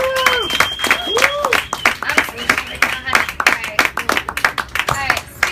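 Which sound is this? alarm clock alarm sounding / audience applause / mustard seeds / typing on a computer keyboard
audience applause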